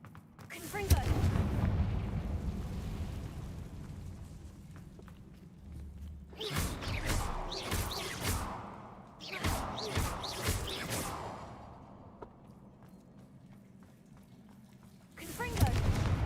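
In Hogwarts Legacy, the fiery Confringo spell sets off several loud, booming blasts in separated clusters, with quieter gaps between them and a final burst at the end; a voice talks in between.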